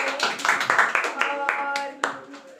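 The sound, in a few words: class clapping hands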